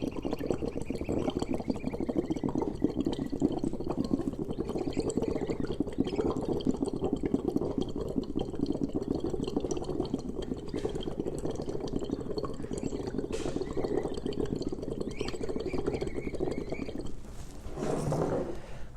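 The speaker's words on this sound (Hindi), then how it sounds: "लंबा सांस छोड़ेंगे और बबल बनाएंगे।" Breath blown out through a simple straw into a glass of water makes a long, continuous bubbling gurgle up close for about seventeen seconds, followed by a brief final burst of bubbles, with no talking.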